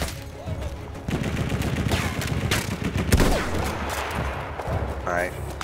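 Gunfire in Battlefield 1 combat: loud, dense volleys of shots and machine-gun bursts, with a sharp blast near the middle and battle noise throughout, while someone talks over it.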